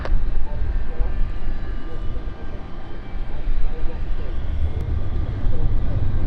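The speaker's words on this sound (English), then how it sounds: "we have the distinctive noise of the Florence flight, the sounds of it going off very soon" Jet airliner engines on the Florence flight hum and rumble at London City Airport, a steady low drone heard from a distance with a slowly rising roar.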